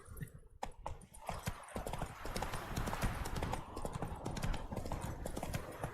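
Geralt's horse Roach gallops in The Witcher 3, a steady run of close, rapid hoof clip-clops with a brief whinny near the start and game sounds underneath.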